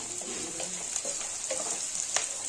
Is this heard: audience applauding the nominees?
no